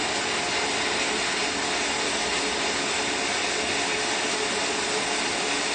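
A close, continuous roaring hiss of a sandblaster blasting plastic laminate name plates, steady and loud from start to finish with no pauses and no voices.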